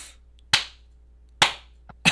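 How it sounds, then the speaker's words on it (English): Three sharp, widely spaced hand claps ring out one at a time in a slow, deliberate rhythm, loud and close, with no talking. "Slow clap."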